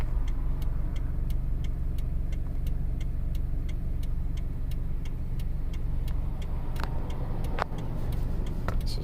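A 2015 Scion FR-S with a 2.0-liter engine idles steadily with a lean bank 1 fault, giving a continuous low rumble and a regular ticking tapping through it, heard up close with no talking.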